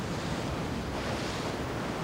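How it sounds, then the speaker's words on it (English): Waves crash and the wind roars in a violent storm on the English Channel, a dense and continuous wash of surf noise with no let-up and no voices. "Poised to go, the Allied Armada is hit by a violent storm in the Channel."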